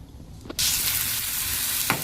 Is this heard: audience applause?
no